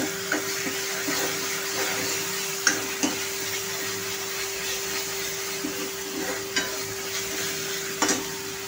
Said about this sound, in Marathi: आलं लसणाचा कच्चेपणा जाईपर्यंत आपल्याला फ्राय करायची आहे.